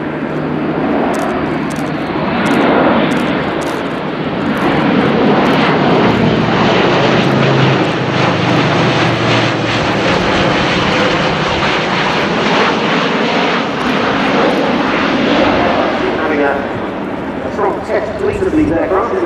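A steady, loud roar from the engines of an Airbus A400M Atlas military transport aircraft at the RIAT 2016 airshow, with a commentator speaking continuously over the noise.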